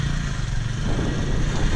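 Honda Grom motorcycle engine idling nearby, a steady low rumbling putter throughout the short moment with no talking over it.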